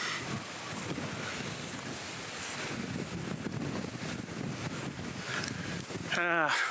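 Wind buffets a microphone outdoors beside an abandoned farmhouse, a continuous rough, rumbling roar that swells slightly near the end.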